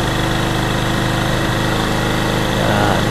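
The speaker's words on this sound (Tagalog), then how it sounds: "kung naririnig nyo, ayan yung makina niya, yung tambuto niya nagbabago" Suzuki Smash 115cc motorcycle engine revving with a steady, loud exhaust drone and rough mechanical chatter throughout, the pitch rising slightly near the end; no talking.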